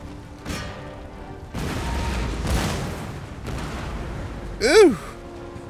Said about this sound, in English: Oh, I love canister shot. It's just so devastating.